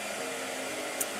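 Steady, loud blow dryer running near an artist painting with gouache: a continuous airy whoosh without pauses, no voices over it.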